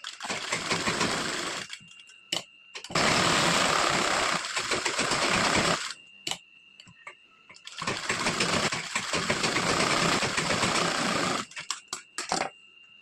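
A sewing machine stitches the lining onto a four-tuck blouse, running in three long, steady bursts of rapid stitching separated by short pauses with light clicks.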